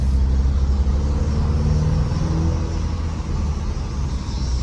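A 2024 Ford Mustang with the EcoBoost turbo engine drives along, a steady low engine drone and road rumble filling the cabin, with a faint turbo whine rising above it.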